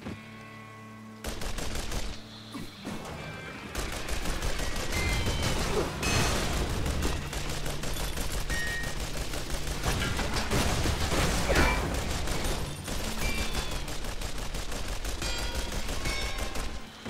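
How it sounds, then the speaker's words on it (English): Machine gun fire in the Shoot Many Robots video game, sustained rapid automatic bursts after a short lull, loud and continuous with booms and mechanical clatter mixed in, no talking. "Machine gun's got a good boost off the item we bought."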